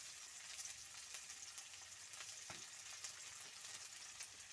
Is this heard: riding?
no